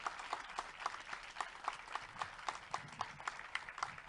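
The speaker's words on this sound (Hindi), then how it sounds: "एक बार जोरदार तालियां इस बच्ची के लिए।" Faint audience applause at a theatre play, a thin, evenly paced run of claps heard from a distance.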